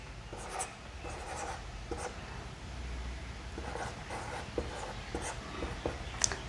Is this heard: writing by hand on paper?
yes